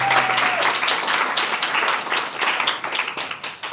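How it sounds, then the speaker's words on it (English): An audience at an economic development announcement gives a short round of applause for local leaders, with many individual claps audible, fading toward the end while a faint tone rings early on. "Can you please applaud again for all the LPC leaders?"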